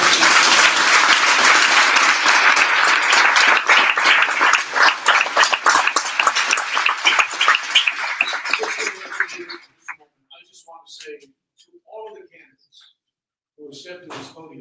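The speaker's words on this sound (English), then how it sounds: "round of applause for you." Audience applause at a city council candidates' forum in Orange, a dense sustained round of clapping from a large crowd that fades out after about nine seconds, followed by a few scattered claps and faint talk.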